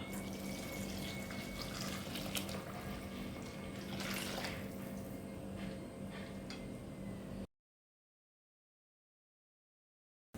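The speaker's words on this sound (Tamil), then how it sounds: "அந்த தண்ணியை இதில் ஊற்றிக்கலாம்." Chicken cooking water poured into a soup pot, a steady continuous watery rush close by for several seconds before stopping.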